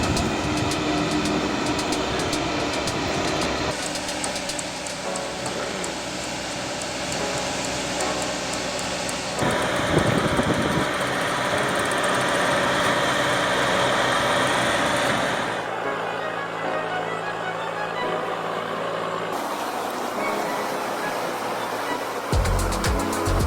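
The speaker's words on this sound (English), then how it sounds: "The LKT-81 Turbo with 160 horsepower engine is the machine born for that challenge." The 160-horsepower LKT-81 Turbo forestry machine roars steadily while pulling through poplar. The heavy engine drone stays loud and continuous, with abrupt shifts in tone and texture partway through.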